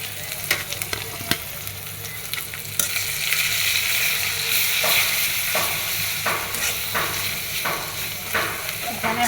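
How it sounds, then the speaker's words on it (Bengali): Onions and spices frying in a pan for a Bengali meat-and-brain curry, with a steady hiss of sizzling oil and scattered clinks and scrapes from stirring throughout, loud and close. "পেঁয়াজ লাল হয়ে গেছে, এখন মশলা ছেড়ে দেব"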